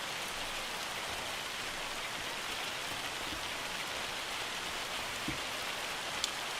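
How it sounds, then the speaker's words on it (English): Hail falling in the farming video game Farming Simulator 25, a dense steady patter of drops on surfaces with a couple of faint isolated knocks, continuous and even, no talk. "the forecast still says cloudy, but it's still hailing out"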